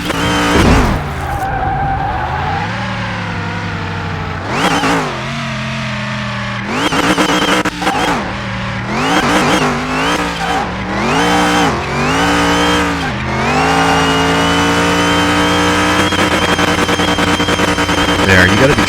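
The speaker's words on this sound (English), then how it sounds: "If you accelerate, if you just accelerate hard and let it shift, that's when it'll spin out" Car tires skid and spin out in Car Mechanic Simulator 2021 on a Delray Custom Fury junkyard pickup with poor tires, leaving the asphalt. A loud, continuous engine roar rises and falls in repeated revving sweeps beneath a rough, scraping tire squeal.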